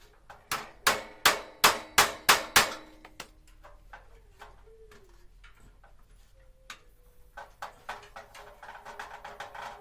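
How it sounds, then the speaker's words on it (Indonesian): A hammer taps a water heater during a repair of a unit that will not ignite. Seven sharp, evenly spaced metallic knocks open the sequence, then lighter, scattered taps and clatter follow up close. "kita ketok pakai palu"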